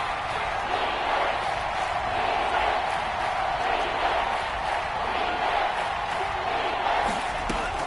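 A Seahawks home crowd roars steadily in a football video game during a red-zone third down, a dense wall of stadium noise with faint cheering and thumps running unbroken throughout.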